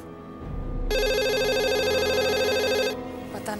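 A telephone rings once at a home number, a steady electronic trill lasting about two seconds, heard over a low room hum.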